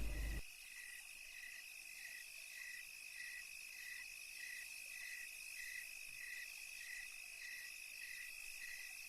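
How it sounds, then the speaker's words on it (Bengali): Crickets chirping in a dark forest at night, a faint steady high trill pulsing in a regular rhythm, alone with no other sounds. "নিশি কালো অন্ধকারের মাঝে শুধু ঝিঝি পোকার ডাক কানে ভেসে আসছে।"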